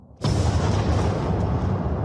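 A 21-kiloton atomic bomb detonation erupts in one sudden loud boom that rolls on as a sustained, heavy rumble.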